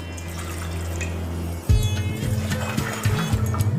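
Three cups of previously boiled milk are poured into a pan for milk tea. A low hum gives way to a sudden splashing, gurgling pour close by that keeps going in uneven surges.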